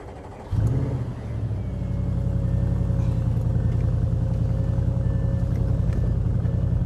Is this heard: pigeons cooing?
no